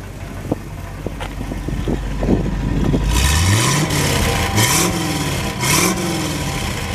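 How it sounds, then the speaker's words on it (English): A 1974 Chevrolet Corvette's exhaust rises from idle into several sharp throttle blips, each swelling and falling back, loud and close with a deep rumble, and nobody speaking. "Let you listen to the exhaust."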